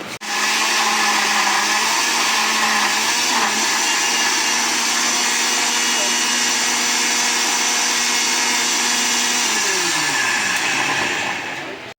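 A blender whirs steadily, loud and close, as it blends pineapple with sugar for pineapple punch, its motor pitch dipping slightly before winding down at the end.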